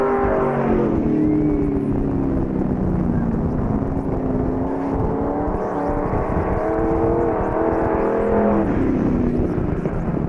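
A dirt-track race car accelerating out of turn four at Knox County Raceway, a loud, sustained engine roar with rising and falling pitch over about ten seconds, close and continuous.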